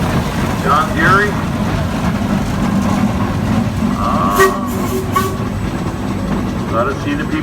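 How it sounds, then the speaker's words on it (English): A 1911 steam traction engine running in a parade gives a few short whistle toots above a steady rumble, with people talking nearby throughout. "This is the Jerry engine"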